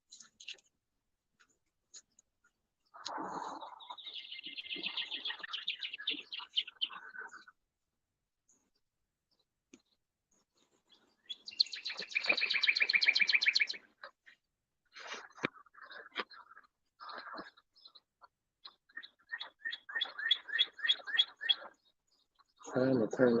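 A red bird chirps outdoors in the morning, giving several bursts of bright, quick chirps separated by short silences. The calls sound moderately close.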